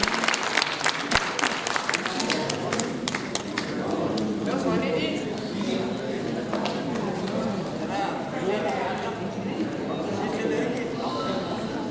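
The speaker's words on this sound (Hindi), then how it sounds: "हृदय से तालियों के साथ अभिनंदन" Dense, loud applause from the audience at a Hindi literary award and honour ceremony, many hands clapping in a sustained roar for the full length, with crowd noise and some voices mixed in.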